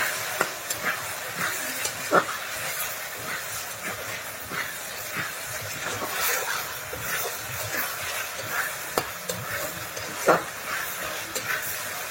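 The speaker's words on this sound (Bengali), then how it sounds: "তারপরে যে মশলা কষাইয়ে আমি তরকারিটা চুলায় দিয়ে দিলাম" Curry sizzling on a stove after fried fish and spices go into the pan, a continuous hiss with scattered crackles and pops, fairly faint and steady.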